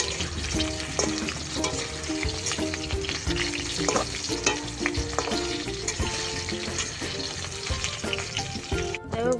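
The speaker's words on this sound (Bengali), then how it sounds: "এখানে আলুটা ভেজে নিচ্ছি" Potatoes fry in a pan over a lowered flame, a loud continuous sizzle broken by repeated scraping and clattering of a spatula against the metal, no voices.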